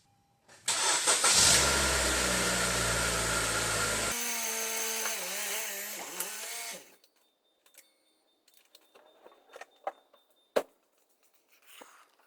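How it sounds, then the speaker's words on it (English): A Honda car engine cranks and catches, then settles into a steady idle that runs for several seconds before cutting off, leaving faint scattered clicks and knocks nearby. "I'll start the vehicle and show you what we got."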